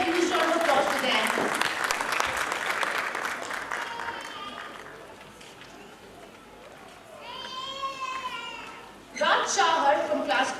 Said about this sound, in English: Please give a huge round of applause to them.